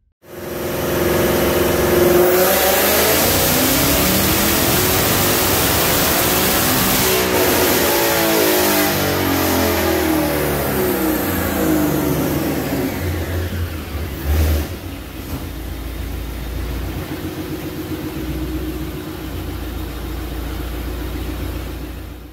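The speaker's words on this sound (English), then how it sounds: "Okay guys, you just saw the dyno pull and we ended up making 919, 783." Supercharged car engine with a VMP Odin supercharger revving hard on a chassis dyno, a loud sustained pull rising in pitch with supercharger whine, then easing off to a lower rumble near the end.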